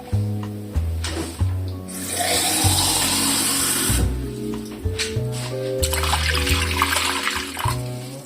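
Water pours steadily into a pan of stuffed peppers in a home kitchen, a continuous close splashing with dull clinks of cookware around it. No one talks.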